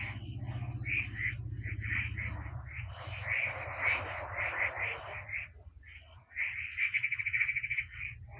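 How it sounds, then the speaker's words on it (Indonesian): Frogs croak at night in a loud, close chorus of rapid pulsed calls repeating in bursts, with some overlapping trills and a brief lull near the end. "Makin bunyi dasar kodok."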